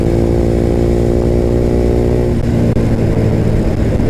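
Harley-Davidson motorcycle accelerating on the open road, a loud close rumbling engine roar with dense low harmonics that holds strong and shifts in pitch partway through.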